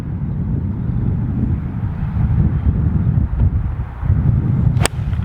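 Wind rumbles and buffets steadily across the Dartmouth golf course, a loud, low, gusting roar that dips and surges, with a brief sharp click near the end.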